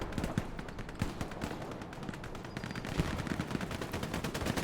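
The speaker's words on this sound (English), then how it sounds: "Half-track MG being fired" A half-track machine gun firing in the World War II shooter Hell Let Loose, heard as rapid, fairly distant bursts of automatic fire with scattered louder shots over continuous battle din, fairly quiet overall.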